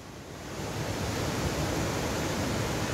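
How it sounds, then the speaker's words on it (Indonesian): Tekaan Telu waterfall in Tomohon, North Sulawesi, a set of three falls with one larger, pours as a loud, steady broadband roar of rushing water that swells slightly at the start and then holds constant. "Ada 3 air terjun, 2 kecil dan 1 sebelah kanan itu agak besar."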